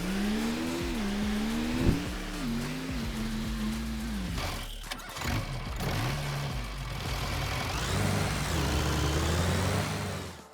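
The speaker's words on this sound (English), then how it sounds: "this tractor is really worn out. The gears don't shift right, sometimes it loses power" A worn-out tractor drives in Farming Simulator 25, its engine loud and continuous with a pitch that climbs and drops repeatedly as the gears shift, broken by brief knocks and a short stretch of lighter noise.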